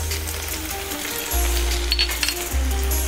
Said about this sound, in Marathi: आता आपण बारीक चिरून घेतलेलं लसूण टाकूया